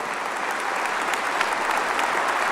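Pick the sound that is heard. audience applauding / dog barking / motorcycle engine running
audience applauding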